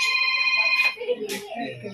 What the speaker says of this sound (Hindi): फोन आ गया किसी का